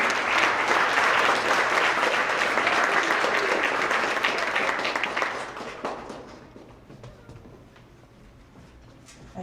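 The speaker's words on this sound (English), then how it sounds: "Give another round of applause for all of our math award recipients." Loud, dense clapping fills a middle school awards assembly for math award recipients, then thins out to scattered claps and quiet room noise.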